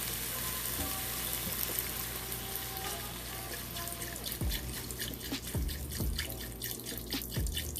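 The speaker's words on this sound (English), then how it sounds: "now let's go ahead and put our beef broth in here." Beef broth poured into a hot cooking pan on the stove, a steady liquid trickle and splash with a few drips, over a continuous background of kitchen noise.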